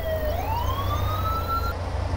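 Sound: police car siren in the video game Thief Simulator

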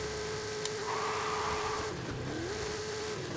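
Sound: modified Ford Bronco launching, accelerating in Forza Horizon 5 video game

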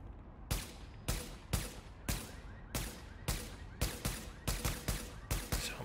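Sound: weapon firing in video game The Division

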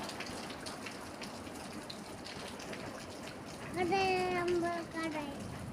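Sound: heavy rain falling in a village

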